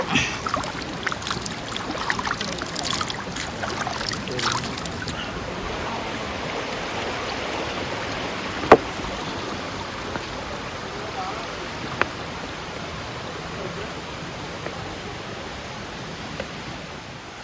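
Kallar river stream flowing in a steady, broad wash of rushing water, with a few splashes and knocks near the start and faint brief clicks later.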